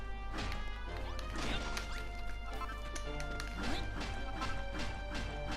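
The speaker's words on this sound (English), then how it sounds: "you can get rocks by smashing these rocks with the hammer." Rocks being smashed with a hammer in the video game Dragon Quest Builders 2, heard as a run of sharp crunching hits over steady game music, spread across the whole stretch.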